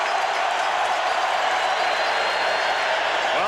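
A stadium crowd of more than 75,000 at a college football game roars and cheers in a steady, broad wash of noise, distant and sustained without a break.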